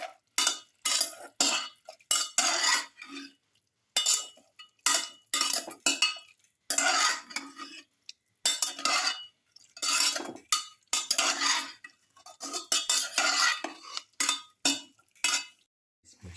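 A utensil stirs a pepper beef cashew stew mixture in a pot, giving repeated scraping and clinking strokes in uneven bursts with short pauses, close and fairly clear with no talking.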